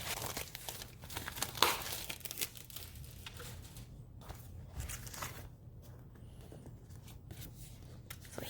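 Paper and packaging from a Paper Pumpkin card-making kit crinkle and rustle close by as it is handled, in soft irregular bursts with a few sharper crackles, and no one talks.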